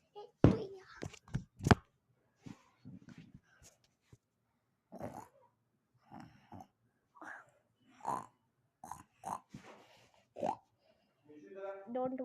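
A person imitates a Peppa Pig oink with a series of short snorting, grunting snuffles in irregular bursts, fairly close, broken by pauses and some quiet speech.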